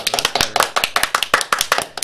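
A brisk canned applause sound effect played on a radio and TV talk show, regular sharp clapping bursts repeating steadily at close range, loud and alone with no talk over it.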